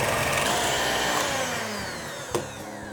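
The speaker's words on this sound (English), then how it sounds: "we're gonna beat the egg whites on medium for 2 to 3 minutes until we get soft peaks that form." An electric hand mixer beating egg whites on medium speed for French macarons, a loud steady whirring drone close to the microphone with a brief knock near the end.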